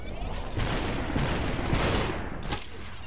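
Enemy gunfire in the video game SUPERHOT, a dense run of overlapping sharp shots and bursts at steady loudness throughout.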